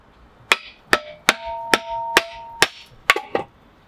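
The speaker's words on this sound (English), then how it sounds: "you put the big split on there and you get you your sledgehammer." Sledgehammer striking a log splitter to split firewood for an offset smoker: about nine sharp metallic impacts in quick succession, some with a brief ringing tone, close by with no talk.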